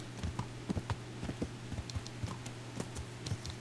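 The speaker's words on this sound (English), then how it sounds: "Horse coming through." Rhythmic horse hooves clip-clopping on a hard surface at a steady walking pace in Kingdom Come: Deliverance, fairly close, with a low hum underneath.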